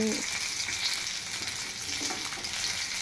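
Cauliflower and eggplant pakoras fry in hot oil, giving a steady, close bubbling sizzle that runs unbroken throughout with light stirring.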